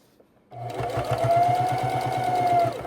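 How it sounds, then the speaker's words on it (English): A sewing machine runs steadily, stitching binding onto a quilt in the ditch where the fabric meets the binding, a close, continuous rhythmic hum that starts abruptly and holds for over two seconds with no talk. "we're sewing right there in the ditch, right where the fabric comes together with the binding"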